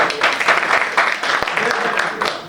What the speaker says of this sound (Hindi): एक बार जोरदार तालियों से इस्तकबाल कीजिए।